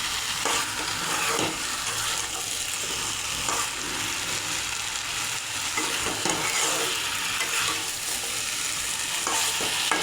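Duck meat fries in a pan while being stirred, giving a steady, dense sizzle with scraping from the utensil. It stays close and even throughout, with no talking.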